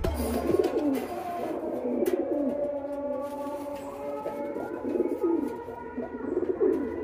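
Pigeons bought at a pigeon market coo repeatedly in soft, rolling bursts close by, with rustling and handling noises in between and no speech.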